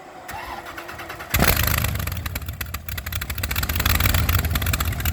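A starter cranks briefly, then a car engine catches and roars to life, settling into a loud, rough, rumbling idle close by.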